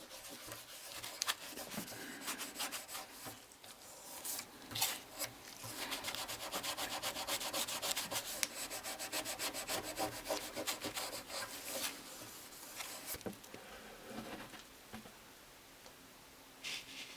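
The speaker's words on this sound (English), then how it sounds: "Then I applied several coats of wipe-on lacquer and polished it until it felt like the rest of the neck." Rubbing and polishing a broken guitar neck after several coats of wipe-on lacquer, a steady close scratchy friction with rhythmic strokes and brief knocks, running for most of the stretch with no talking.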